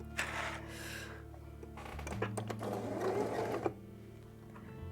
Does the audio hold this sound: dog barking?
no